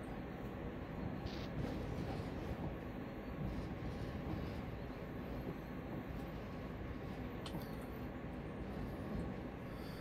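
A train in the Train Sim World game, on a CSX run, rumbles steadily along the main line, giving a continuous low, broadband roll with faint higher squeals throughout, loud and unbroken.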